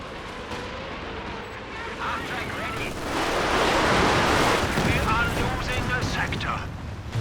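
Machine gun fire in a Company of Heroes 2 multiplayer battle rattles on among other battlefield explosions and effects, a dense, loud wash of gunfire that swells in the middle and stays busy to the end.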